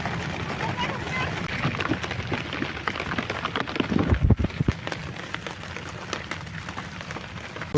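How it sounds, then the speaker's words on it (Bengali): Rain patters on a tarpaulin shelter at a maize harvest field, with irregular drumming drops and brief heavier bursts mid-way, while a person talks over it. "দেখো বৃষ্টি এসে গেছে একদম"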